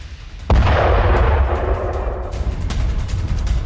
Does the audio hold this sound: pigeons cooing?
no